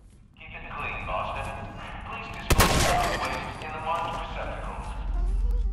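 A shotgun blast in Fallout 4 cracks out sharply midway through, a single loud broadband shot over ongoing combat ambience and music, with the player talking across the clip.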